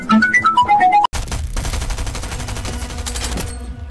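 SMG fire in a video game: after a short run of descending electronic game tones, a loud burst of gunfire opens up and rattles on in dense, rapid volleys for the rest of the clip.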